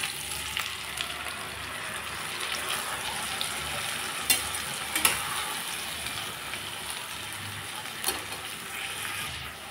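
Potatoes sizzle steadily in a pan while being stirred with poppy seed paste, a soft continuous fry broken by a few sharp scraping stirs, fairly quiet and close with no talking.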